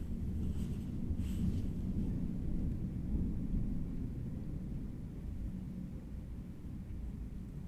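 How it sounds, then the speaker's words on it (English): A long, low thunder rumble rolls on steadily for several seconds during a June storm outside a houseplant room, deep and muffled, with no voices over it. "Was that thunder? That was so long."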